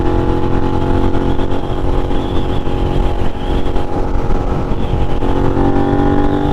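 Suzuki SV650 motorcycle accelerating hard from low revs on a night ride through New York City streets, its engine droning loud and close with rising tones under heavy wind noise, no voices.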